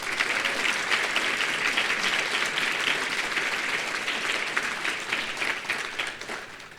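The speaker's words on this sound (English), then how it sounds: "I just ask you guys to give him a round of applause for that." A crowd at a mental health legislative briefing and reception applauds Senator Malcolm Augustine, with dense, sustained clapping that stays full for several seconds before thinning slightly toward the end.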